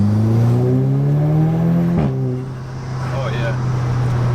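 An Audi S3 fitted with an AWE SwitchPath valved exhaust in sport mode revs with a deep, steady droning burble that rises in pitch, then drops back to a lower rumble. Close and loud inside the car.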